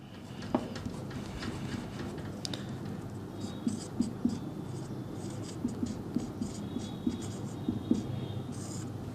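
Marker or chalk writing on a board while labelling places on a map of Rajasthan, giving soft scratchy strokes and light taps in an irregular rhythm against a quiet room hum.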